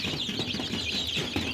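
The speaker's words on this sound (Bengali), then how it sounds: "আমি আপনাদেরকে আজকে টাইগার মুরগির বাচ্চাটি দেখাই যে কতটুকু হয়েছে" Young tiger chicken chick about 23 days old, giving faint repeated high cheeping calls in short bursts over a quiet background.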